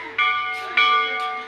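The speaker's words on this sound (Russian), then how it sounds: "Это всюду звонят колокола." Bells ringing in Nepal, two bright metallic strikes about half a second apart, each ringing on with a sustained shimmering tone that slowly fades.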